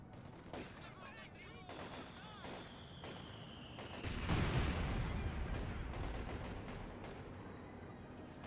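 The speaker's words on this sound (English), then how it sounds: "So those S mines may have just been detonated." S-mines detonate in Company of Heroes 2, a cluster of sharp blasts and crackling explosions building into a denser rumbling burst midway, with a voice talking over the quiet battle.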